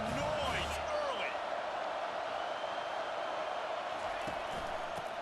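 Stadium crowd in College Football 25, a steady roar of massed voices from a big crowd that runs unbroken, with brief shouts near the start and a voice talking over it.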